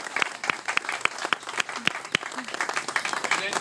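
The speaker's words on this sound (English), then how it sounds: "Everybody give her a round of applause." A round of applause at a Slice opening event, dense clapping from a crowd with sharp individual claps standing out, steady and fairly close, with some voices and cheering mixed in.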